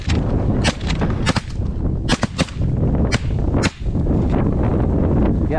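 Shotgun blasts during a snowy bird hunt for specklebellies, several loud sharp reports in irregular succession, some doubled close together, near and heavy with wind noise.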